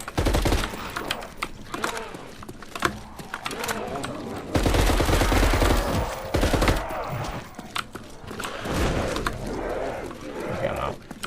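Rapid gunfire from the Pharaoh weapon in the video game Project Aether, loud dense bursts of shots running through most of the stretch, with a short lull before the firing resumes.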